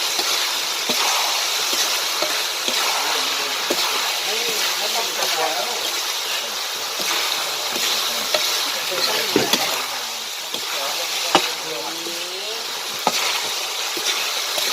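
Sweet pork frying in a pan, a steady broadband sizzle with scattered pops and stirring clatter running throughout, loud and close, with faint voices at times.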